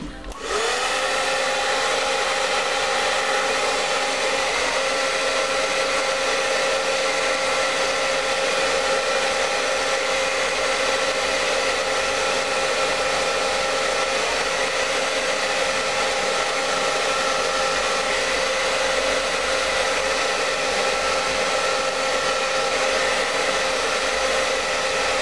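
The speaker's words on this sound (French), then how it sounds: "Donc un petit coup de sèche-cheveux." A hair dryer blows steadily and loudly at close range for the whole stretch, drying a damp, combed strand of hair coloured with hair chalk, a continuous whooshing hum with no talk.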